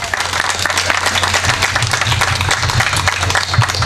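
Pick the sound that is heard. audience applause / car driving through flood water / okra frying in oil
audience applause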